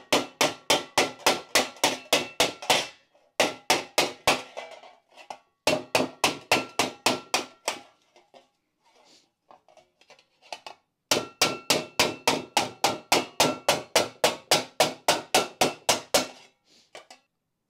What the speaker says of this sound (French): le but c'est de travailler la tôle en la tapant pour la creuser